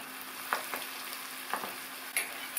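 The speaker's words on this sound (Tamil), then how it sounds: "பொரிக்கிறதுக்கு கடாயில் எண்ணெய் விட்டு சூடாயிடுச்சு." An ivy gourd and peanut mixture fries in hot oil in a kadai, giving a soft, steady sizzle with a few faint crackles and pops, heard close and alone.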